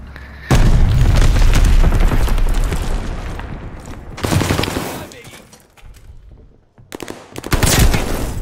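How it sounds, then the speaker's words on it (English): A friendly bombing run in a shooter game: a sudden loud blast sets off a long rumbling barrage, followed by further separate booms and bursts with quieter gaps between them, and a voice is briefly heard. "Friendly bombing run inbound"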